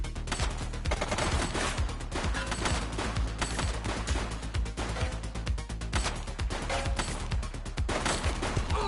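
Rapid gunfire in The Precinct crackles in dense, continuous bursts, close and loud, sustained over several seconds like an automatic weapon firefight.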